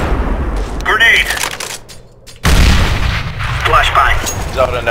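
A grenade blast and gunfire in the video game CS:GO: scattered shots and chatter, a short quiet dip, then a loud boom followed by continued firing and rumble, with voices talking over the action.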